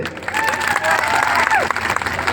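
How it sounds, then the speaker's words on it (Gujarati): An audience at an AAP political rally in Dahod applauds loudly, with dense clapping, some cheering and a few raised voices over about two seconds. "તાળી તમારા માટે"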